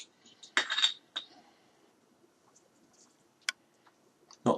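A can of Golden Goose beer from Lidl cracks open with a sharp hissing snap, followed by faint clinks and small taps in a quiet room, then another short metallic click.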